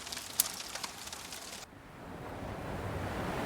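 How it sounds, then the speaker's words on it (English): Ocean waves wash and roll in a steady surf, with a soft whoosh of water and some breezy wind noise, continuous and fairly faint. "Rain and ocean sounds help calm your mind and guide you into deep,"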